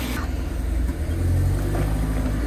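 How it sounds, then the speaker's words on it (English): Car engine starts and runs with a loud, low rumble that swells slightly as it revs, heard close from inside or beside the small car. "Start the car."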